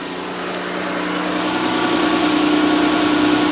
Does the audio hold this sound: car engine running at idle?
yes